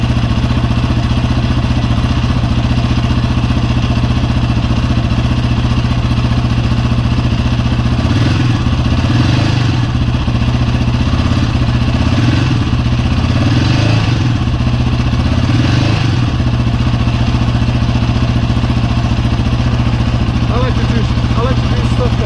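A 2020 Yamaha Raptor 700R ATV engine idles steadily to warm up on a cold day, a loud continuous low rumble with a few rhythmic swells of revving midway through.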